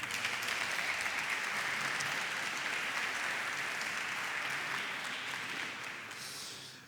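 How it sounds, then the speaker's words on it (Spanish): Audience applause fills the room, a broad continuous roar of many clapping hands that holds steady and then tapers slightly near the end. "Fuerte aplauso, por favor."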